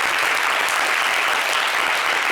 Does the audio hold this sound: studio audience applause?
yes